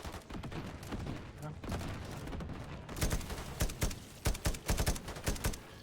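Gunfire in the Modern Warfare 4 campaign, dense bursts of rifle shots and rapid automatic fire, loud and close, building into quick repeated cracks toward the end.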